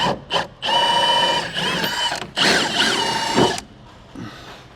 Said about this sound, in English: we will remove the lower shock bolt with an 18mm socket